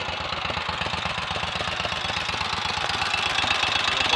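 A 1930 Royal Enfield 1000 cc Model K motorcycle, freshly rebuilt, idles steadily up close with a rapid, even low thumping beat and mechanical clatter, no voices.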